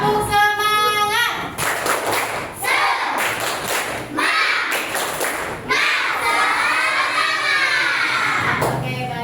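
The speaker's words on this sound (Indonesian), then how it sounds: "kita tepuk semangat dulu ya" A class group at a teacher training session performs a patterned spirit clap, rhythmic bursts of claps and thumps punctuated by children's or students' chanted voices, loud and close with short pauses between bursts.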